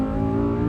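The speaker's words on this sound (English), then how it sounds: "That V10 engine is absolutely monstrous. Just listen to it." The V10 engine of a 2023 Lamborghini Huracan Tecnica in Corsa mode on a launch-control start, a loud, steady, close-up tonal roar with a strong low drone and no voices.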